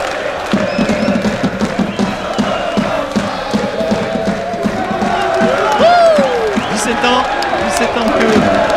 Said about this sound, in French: Je vous demande, mesdames et messieurs, de les applaudir très très fort.